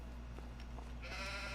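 Sheep bleating in Farming Simulator 25 on a flat-map farm, a single short bleat rising over a quiet, steady game ambience with low background hum.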